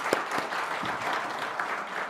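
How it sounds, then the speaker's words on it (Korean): A church congregation claps together in a short burst of applause, a dense, even patter of many hands that fills the room. "잠깐 일어나시면 박수라도 한번 치고 싶습니다"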